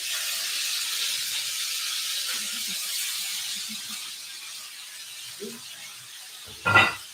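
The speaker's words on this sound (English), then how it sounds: "So I held that top over it a little bit so the steam can release away from me" Steam hissing out from under a lid held partly over a pot of boiling pasta, a steady broadband rush that slowly eases, with a faint clink near the end.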